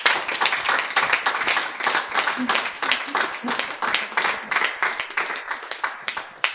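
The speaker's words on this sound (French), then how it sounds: "Est-ce qu'on peut l'applaudir, s'il vous plaît?" An audience at a church gathering applauds a prophetess, with close, loud clapping that keeps a steady pulsing rhythm for several seconds and some voices mixed in.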